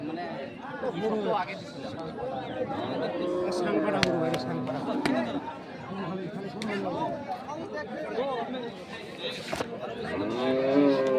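Cattle low and moo nearby amid overlapping voices of a chattering crowd at a Noakhali cattle market, the animal calls rising repeatedly through the talk.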